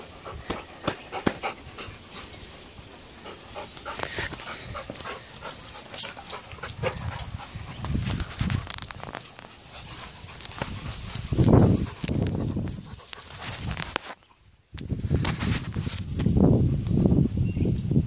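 A dog pants rapidly and moves around close by, with scrabbling and clicking steps, rustling, and occasional high chirpy sounds over the breathing.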